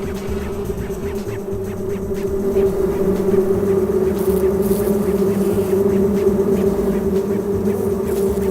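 Honeybees buzzing as a steady, dense drone that swells slightly louder partway through and holds, close and continuous with no voices.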